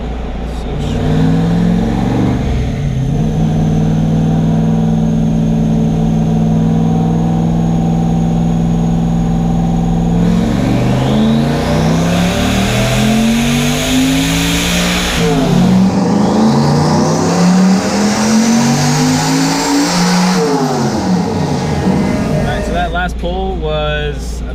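Turbocharged 427ci Corvette with an 88mm turbo roars through a dyno pull, engine climbing in pitch as it revs hard, dropping off and building again, loud and close with voices talking over it.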